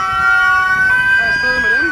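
Danish fire engine siren at an open-house event at a fire station, a loud close steady wail with its pitch bending near the end.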